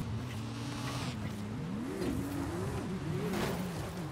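A Porsche GT3 RS driving in Forza Horizon 5, its engine holding a steady drone and then revving up and down through gear changes over several seconds, moderately loud with no talk.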